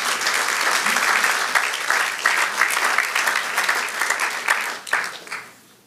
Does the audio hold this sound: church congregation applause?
yes